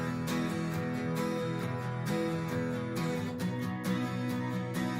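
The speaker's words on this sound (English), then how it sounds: "And then we've got these acoustic guitars that sound like this." Acoustic guitars heavily chorused and drenched in reverb, strumming within a pop-style beat, blended into a dense, steady instrumental mix with percussion, no talking.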